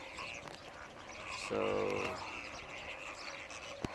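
Birds call at Alcodra Lake in the rain, a brief nasal, quacking burst standing out near the middle over a hushed outdoor background, with someone speaking faintly nearby.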